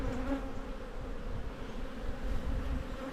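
Honey bees buzzing around a green hive in an Australian apiary, a steady low droning hum from many bees close by, unbroken and even.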